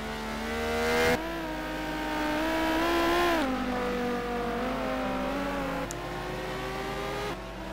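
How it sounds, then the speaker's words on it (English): A Corvette V8 and a Porsche 996 flat six in a sim race at Aldo Scribante, engine tones droning and rising through gear changes with sharp shifts and a sustained held note, steady and moderately loud with no voices. "Corvette sounding fantastic. Big V8 bar. So does the 996 Porsche."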